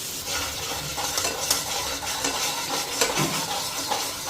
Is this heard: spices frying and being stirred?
yes